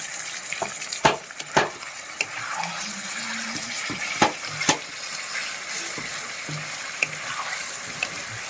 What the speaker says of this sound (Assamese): মাংস ভাজি আছোঁ এতিয়া।